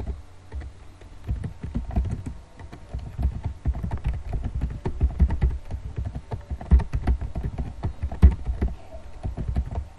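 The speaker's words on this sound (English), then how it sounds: "type basic or default HTML structure code" Steady typing on a computer keyboard while basic HTML code is entered in a text editor, a dense run of quick, close key clicks with a few louder strokes.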